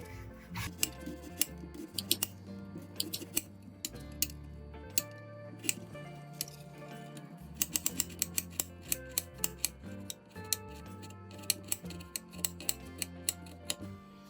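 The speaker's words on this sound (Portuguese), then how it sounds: "Vou começar cortando uma cebola grande" A knife chops a large onion for a Bahian okra stew, making crisp, repeated cutting clicks at an uneven rhythm over steady background music.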